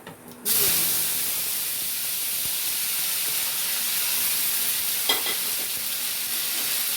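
Chopped tomato dropped into hot oil tempered with panch phoron for a chutney, a loud sudden sizzle bursting up after a brief quiet start and hissing steadily on, with a small stir clatter later.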